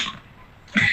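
A short, close cough bursts out at the end of a quiet moment in a spoken talk, a single harsh throaty burst after near silence.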